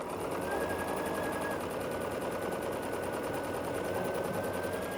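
A sewing machine chain-pieces quilt sashing units in a fast, steady mechanical rattle that runs continuously without pause, fairly quiet and close, with no talking.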